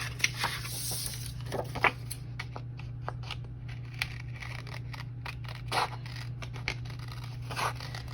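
Scissors snipping through paper taco cutouts for a handmade teacher appreciation gift card, a series of crisp, close cuts and rustles at an uneven pace over a steady low hum, with no talking.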